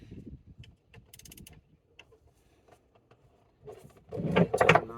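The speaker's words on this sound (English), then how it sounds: "go ahead and get our jam nut loose there." A wrench works a jam nut loose on a damaged SeaStar hydraulic steering cylinder, with sparse metallic clicks and ratchet-like ticks that build into a louder burst of scraping and clanking near the end, close and without speech.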